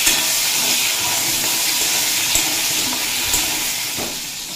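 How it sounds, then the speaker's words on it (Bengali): Pieces of pointed gourd (potol) fry in hot oil with salt, giving a loud, close, continuous sizzle and hiss with occasional soft stirring bumps and no talking. "পটলগুলো স্বাদ মতো লবণ দিয়ে ভেজে নেব।"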